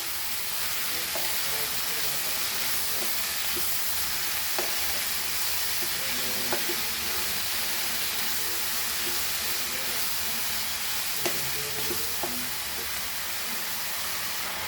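Chopped banana flower fries in a pan for a Goan bhaji, a dense, steady sizzle lasting throughout, with occasional faint stirring taps and clicks of a utensil beneath the hiss.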